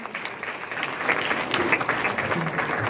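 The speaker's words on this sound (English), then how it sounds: "A big round of applause for all our winners." Audience applause for prize winners at a school elocution contest in Sambalpur, a steady wash of many hands clapping that swells slightly and holds throughout, fairly distant in a hall.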